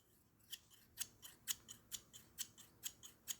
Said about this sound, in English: You can hear that blade to blade contact that you hear in all the horror movies.